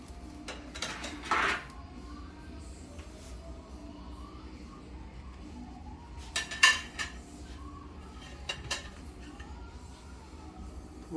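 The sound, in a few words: plate and tongs being handled in the kitchen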